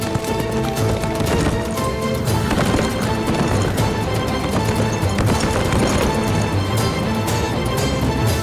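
Horses gallop with a steady clip-clop of hooves, heard throughout beneath loud, dense dramatic music with no clear break.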